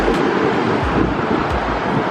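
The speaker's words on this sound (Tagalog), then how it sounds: "ang lakas ng hangin" Strong outdoor wind in Bangkok buffets the microphone with a steady low rumble and broadband roar, continuous and close throughout.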